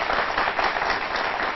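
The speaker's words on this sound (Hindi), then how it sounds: "तालियां भाई हो जाए," A crowd applauds politician look-alikes on stage, producing a dense, even wash of clapping throughout, fairly loud and unbroken.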